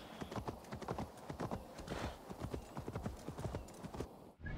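Horse hooves clip-clopping in Assassin's Creed Valhalla, a quick, steady run of close hoofbeats with a brief snort or whinny, fading out near the end.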